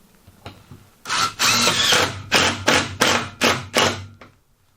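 A power driver sets screws into wood blocks while framing a closet during a home renovation, giving about seven loud, sharp bursts in a steady rhythm, each a short whirring drive that ends abruptly, close by with no talk.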